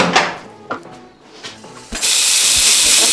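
A few clattering knocks and scrapes, then a sudden loud, steady sizzling hiss as bacon hits a hot pan, close up.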